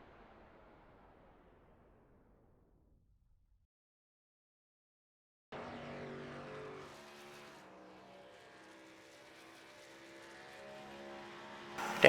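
A race car in a racing video game, a Pennzoil throwback design, revs and accelerates in clear tonal engine whine after a quiet fading start, climbing in pitch and loudness toward a sudden burst at the close.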